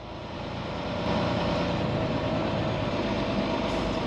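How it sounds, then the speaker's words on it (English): A truck engine in traffic, rising from a low rumble into a sustained, loud, steady drone as the vehicle pulls forward, with no voices. "I'm sitting in traffic, so the truck keeps revving up as I'm pulling forward"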